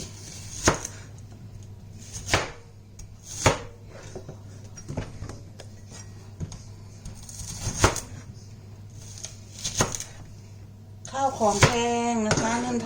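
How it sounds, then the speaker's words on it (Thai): A knife chops through fried braised pork leg on a cutting board, with sharp separate thuds every second or so, followed by someone talking near the end. "แล้วก็จะหั่นลงไปเลย"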